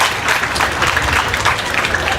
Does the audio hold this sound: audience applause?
yes